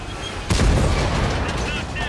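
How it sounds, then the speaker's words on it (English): A T110E3 tank fires a high explosive shell in a video game, a single loud, close boom that rolls into a long rumbling tail. "Ooh, shooting high explosive."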